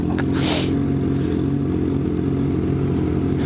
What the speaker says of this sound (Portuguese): eu vou gravar o Carniça andando de moto.